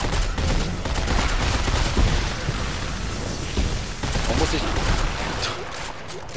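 Gunfire from a weapon in the video game Dead Space 3 crackles and booms in a dense, continuous barrage, loud throughout, with someone talking over it.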